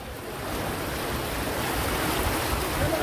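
Floodwater of the Sarna river near Vikasnagar, a rain-fed river in sudden flood, rushes as a loud, constant broadband roar that swells slightly and holds steady without any voices.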